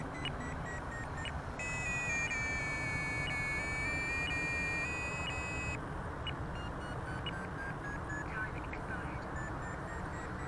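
An RC flight timer beeps outdoors during a Freewing P-51 Old Crow model plane flight, a steady series of high electronic tones repeating over a few seconds above constant wind and motor noise.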